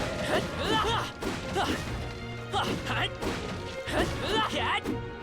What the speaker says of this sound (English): We've smashed all the barrels.